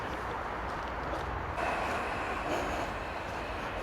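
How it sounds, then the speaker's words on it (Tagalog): A train rolls past on a snowy winter day in Germany, a steady broad rumble that holds throughout and swells slightly midway, with no talking. "Dumana yung tren."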